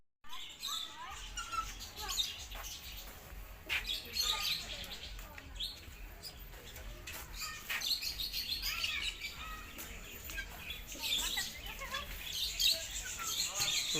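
Birds at a local market with roosters and pigeons chirp and tweet busily throughout, with bright calls overlapping close by and faint voices in the background.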